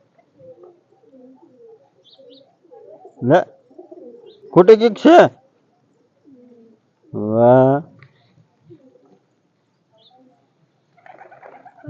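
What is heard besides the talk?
pigeons cooing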